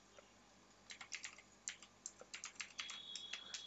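Keys on a computer keyboard are typed in a quick, close, uneven run of soft clicks over a faint steady hum, with no voices.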